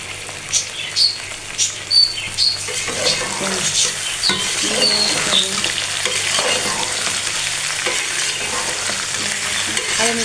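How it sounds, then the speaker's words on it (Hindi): Onions frying in a pan with okra give a strong, continuous sizzle with close stirring and scraping, and a few sharp crackles early on. "थोड़ा सा इसको और फ्राई करके, फिर हम इसके अंदर डाल देते हैं प्याज। अभी थोड़ा सा और हो लेंगे प्याज।"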